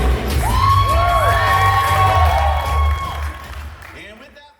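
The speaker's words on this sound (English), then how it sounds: "give yourselves a big round of applause" Wedding guests at a lively party cheer, whoop and clap together in a loud, close burst that swells, then tapers off and fades out at the end.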